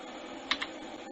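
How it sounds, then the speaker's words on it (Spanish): A single E key is pressed on a computer keyboard during 3D modeling work in Blender, making a crisp click followed by a softer release click, close and isolated against faint background hiss. "Presiono entonces la letra E en mi teclado."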